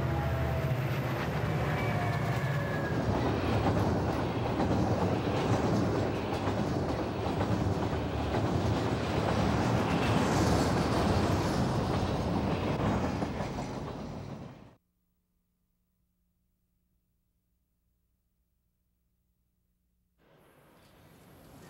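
A Burlington Northern SDP-40 locomotive hauls a mixed string of passenger and piggyback cars, its rumbling engine and clattering wheels loud and steady before cutting off abruptly into silence, then faintly resuming.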